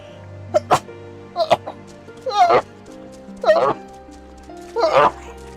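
Several short, sharp bursts spaced a second or so apart, sneeze-like and close, with a quiet gap between each.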